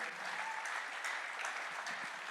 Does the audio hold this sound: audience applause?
yes